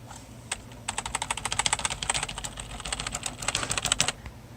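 Rapid typing on a Logitech G213 Prodigy RGB gaming keyboard, a dense run of close, crisp keystrokes with a few isolated taps at the start and no voices.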